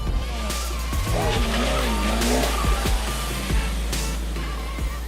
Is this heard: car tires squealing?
yes